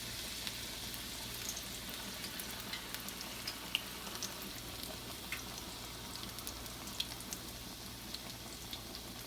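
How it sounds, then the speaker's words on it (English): Steady oil sizzle of vegan potato latkes frying in a pan, with occasional small pops and crackles, close up and continuous, no voices. "now we're going to start frying them."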